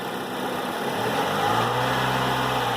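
A car engine runs steadily, a constant mid-pitched hum that deepens and strengthens slightly about a second in as the speed changes.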